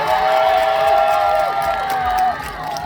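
A large crowd at a summer sweetfish festival in Bonghwa applauds and cheers loudly and steadily, a dense wash of clapping and shouts that dips slightly near the end.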